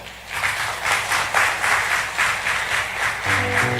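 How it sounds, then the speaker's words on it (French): A church audience applauds pastors being honored at an afternoon service, loud, steady clapping from many hands, close and continuous, with a musical tone entering near the end. "Applaudissez-les, s'il vous plaît."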